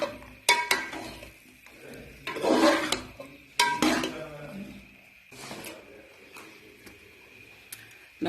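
Taro (arvi) masala being stirred in a pot, a few scraping and clinking spoon strokes against the metal with soft rustling of the thick mixture between them, close and fairly quiet with no talk.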